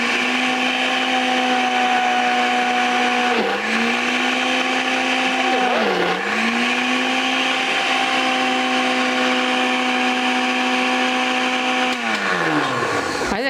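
A household blender grinds ice into slush with a loud, steady motor whine that dips in pitch several times as the blades bog down on the frozen chunks, then winds down at the end.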